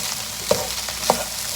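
Masala for lamb mince frying in a pan, a continuous loud sizzle with two brief scraping stirs about half a second apart.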